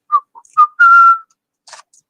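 A workman whistles a short, bright tune alone: a few quick chirped notes, then one long held note, then a faint breathy trail, close by.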